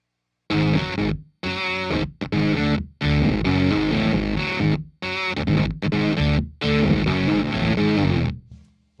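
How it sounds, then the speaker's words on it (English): A heavily distorted electric guitar plays a chunky riff in bursts separated by short gaps, loud and close, with no voices, recorded through a Shure SM7 microphone. "Like 2 bars of the riff with the distortion, everything, exactly like you play it on the record."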